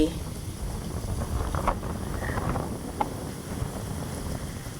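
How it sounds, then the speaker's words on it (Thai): Steady wind rushes and buffets the microphone at a fish pond in a garden, a broad low roar with soft gusts and faint background sounds. "ลมดีมากค่ะ ลมดีมากเลยค่ะ ที่สวนนะคะ"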